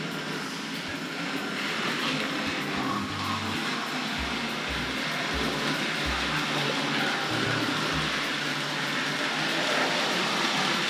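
A Hornby model train runs steadily along a layout track, its continuous rolling rumble and light clickety-clack filling the scene with low bumps recurring as it moves, with no voices.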